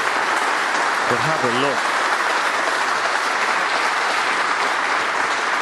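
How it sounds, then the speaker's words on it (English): A warm round of applause from a snooker audience at the British Open, steady and dense throughout, with a brief commentator's voice over it. "there's a warm round of applause"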